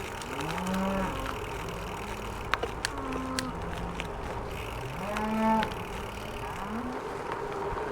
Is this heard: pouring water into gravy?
no